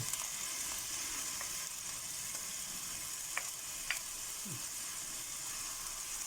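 Onions and peppers frying in a pan, making a low, even sizzle throughout, broken by a couple of faint clicks and a soft scrape, with no talking.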